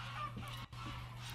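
Domestic geese at a nest site honking and calling through the whole stretch, moderately near and steady, with a brief dip in the racket partway through and no talk.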